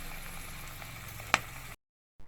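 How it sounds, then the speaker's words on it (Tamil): Small pinched pieces of kaalan dough frying in hot oil, a quiet, steady sizzle with one sharp clink, then abrupt silence before a brief return. "கிள்ளி கிள்ளி எண்ணெயில் போட்டு ஃப்ரை பண்ணி எடுத்துக்கலாம்"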